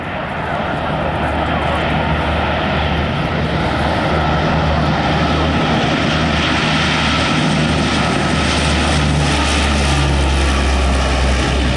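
C-130 military transport with four 4,500 horsepower Allison turboprop engines taking off down the runway at an air show, a loud, steady, full-bodied propeller roar with deep low rumble that builds slightly, close by and continuous.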